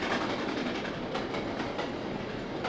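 Steam locomotive accelerating on a Cornish branch line in the Trainz Plus train simulator, giving a steady, loud rolling rumble with rhythmic chuffing bursts and rail clatter, heard alone without speech.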